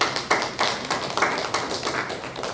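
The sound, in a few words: congregation applauding to welcome a teacher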